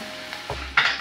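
Water poured into sugar just starting to melt in a pot for strawberry candy, giving a quick bright sizzle and hiss that flares up near the end of the brief clip, close by and fairly loud.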